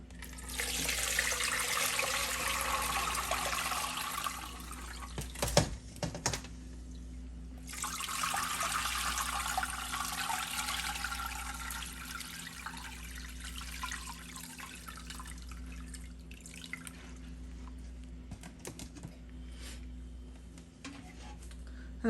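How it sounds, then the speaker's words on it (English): Homemade shrimp stock is poured through a strainer into a bowl, a steady close splashing pour of liquid with a brief clatter partway through, then a second softer stream over a low background hum. "get a strainer, colander, get a bowl, and then just pour everything"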